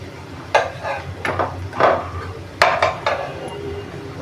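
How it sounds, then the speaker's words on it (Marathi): Onion vadi fritters being flipped in a pan, heard as a series of close clinks and scrapes of a spatula against the pan at irregular intervals over a soft frying hiss. "तर आपण पलटून घेऊया"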